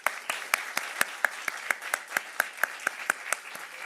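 Steady, evenly spaced claps ring out at a conference, a sharp crisp hit roughly every quarter second, close and fairly loud over a faint hum, with no voices.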